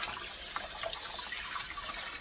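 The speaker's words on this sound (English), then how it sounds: "I pour them back into the water." Peeled beets are tipped back into clean water, a steady close splashing and sloshing of liquid that runs unbroken and fairly loud, with no voices.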